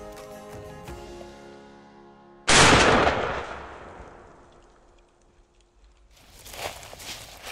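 A single loud shotgun blast rings out at a target during turkey-hunt patterning in Nebraska, a sudden sharp report that decays into a long outdoor echo, followed later by faint rustling.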